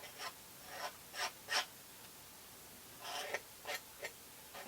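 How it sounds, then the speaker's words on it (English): A palette knife scrapes black gesso onto an art journal collage page in a series of short, quiet rasping strokes separated by pauses, with no one talking. "I'm just going to pick up some black gesso and I'm just going to scrape some in here, real grungy"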